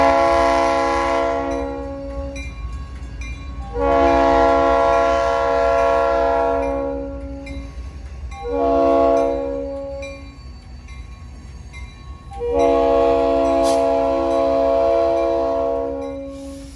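A Seminole Gulf Railway freight train, the DeSoto Turn out of Fort Myers, sounds its horn in four long, loud chord blasts with short gaps between them. A low rumble of the moving train runs beneath the horn.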